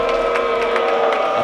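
Steady crowd noise at a high school basketball championship game, a restless murmur of voices and scattered shouts filling the gym without pause.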